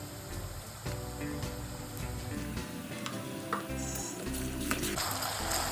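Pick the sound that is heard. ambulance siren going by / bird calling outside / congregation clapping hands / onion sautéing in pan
onion sautéing in pan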